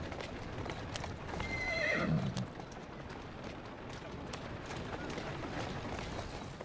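A horse in the video game Assassin's Creed Syndicate whinnies briefly amid soft clopping hooves, fairly faint and a little distant, with quiet background noise.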